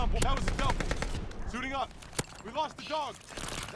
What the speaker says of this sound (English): They're all just shooting up here.